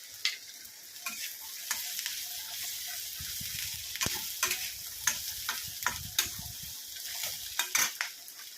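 A utensil stirs red chili masala through a frying dish, with soft sizzling and intermittent scrapes and clicks against the pan, quiet and close.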